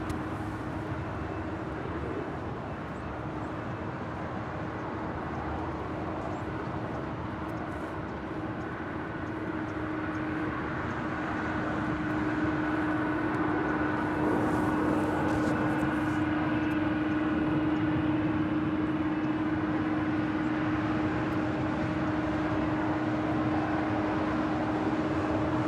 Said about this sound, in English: This is a 23-year-old 777-200ER with United